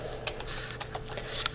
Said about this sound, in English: all you're simply going to do is type in someone's email